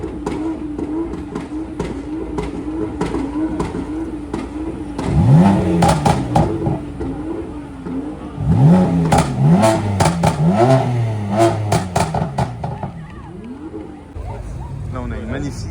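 Car exhaust revving repeatedly at a car meet in Romans, several sharp rising blips that fall away, with crowd chatter and someone talking over the engine throughout.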